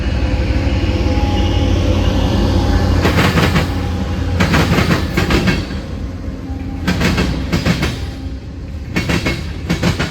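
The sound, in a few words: freight train passing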